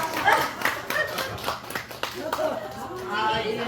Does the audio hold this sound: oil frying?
no